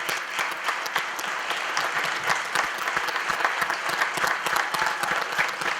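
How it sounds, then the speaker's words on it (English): Steady applause from a live show audience cheering entrepreneurs at the Hawks' Nest event, dense sustained clapping with no break, moderately loud and even across the stretch. "so we can give you one big more round of applause"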